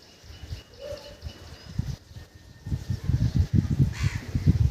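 A crow on a foggy rooftop gives a few faint caws amid low rustling and handling noise, fairly close but soft.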